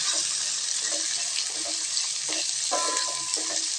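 Large onions sautéing in oil for a masala chutney give off a steady, close hiss, almost like running water, with faint stirring taps underneath and no speech.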